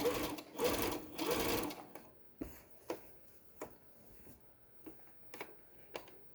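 A sewing machine stitches through a thick tote bag, a steady loud whirring run for almost two seconds, then a string of short separate clicks and taps as the work is handled and pins are pulled.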